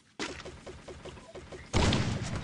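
Gunfire in the Free Fire video game comes as a rapid, evenly spaced burst of shots followed by a heavier, louder volley of shots.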